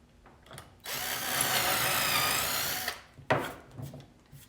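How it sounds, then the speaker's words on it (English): A power drill bores through a piece of scrap wood on a worktable, a loud steady whine lasting about two seconds, then a short burst as the bit spins again, with quiet shop noise around it. "So I used a little bit bigger bit, and I drilled straight through"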